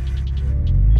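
A car's engine idles and rumbles steadily after being shifted back into drive, a low throbbing hum with faint higher clicks above it, growing slightly louder toward the end.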